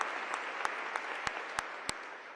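A crowd applauding at a public meeting on gun bans: a soft, continuous bed of many hands clapping beneath evenly spaced sharp claps from one nearby person.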